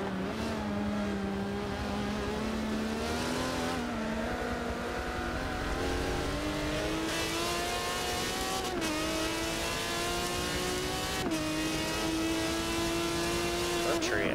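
Porsche GT race cars in an endurance racing game at the Nürburgring, engines droning and revving steadily with rising pitch and sharp gear-shift blips during braking, loud and continuous under commentary voices.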